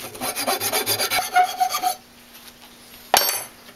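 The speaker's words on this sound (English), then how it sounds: "Just about done filing" A rasp files a wooden chisel handle in quick repeated strokes, about a dozen rhythmic scrapes that stop abruptly, followed by quiet and one brief knock.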